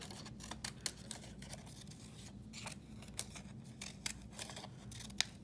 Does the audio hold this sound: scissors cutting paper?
yes